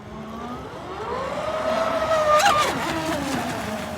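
A fast RC catamaran boat's electric motor whining at high throttle on open water, rising in pitch and loudness as it passes, then easing off, with no talk.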